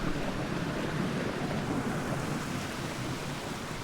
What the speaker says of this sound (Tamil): கொல்லுத்தித்தா ஃபால்ஸ் சூப்பராக இருக்குது பாருங்கள்